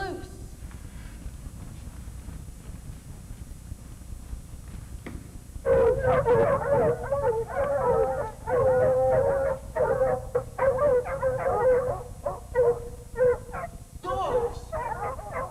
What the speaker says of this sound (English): About 6 or 7 dogs are out there.